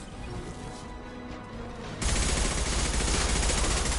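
Gunfire rattles in the video game Mass Effect 2, starting as a busy crackle and then jumping to a much louder, dense, continuous barrage of shots at close range.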